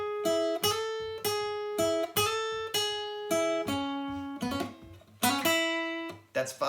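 Acoustic guitar picking a solo with quick hammer-ons, a series of bright plucked phrases repeating in a steady pattern, close and clear with no talking.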